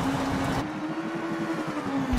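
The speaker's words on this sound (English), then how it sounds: "Look at that rev limiter just the whole way through here" A rally car's engine in the WRC 7 racing game, running at 2018 Rally Finland, holds a steady high drone at the rev limiter for about two seconds, loud and continuous with a slight pitch sag and recovery.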